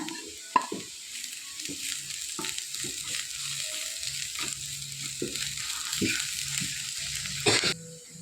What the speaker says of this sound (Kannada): ಇವಾಗ ಸಣ್ಣದಾಗಿ ಕಟ್ ಮಾಡಿಟ್ಟ ಬೆಳ್ಳುಳ್ಳಿ ಹಾಕುವ